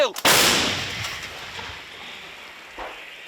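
A single M777 howitzer fires close by, a sharp heavy boom that rolls off into a long, fading rumble.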